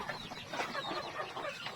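Chickens clucking at a farm garden, a dense, continuous chorus of overlapping clucks and squawks nearby, fairly loud and busy throughout.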